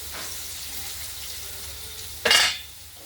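Potatoes fry in a pan with an even, moderate sizzle, then cabbage drops in near the end with a sudden loud hissing burst that quickly settles.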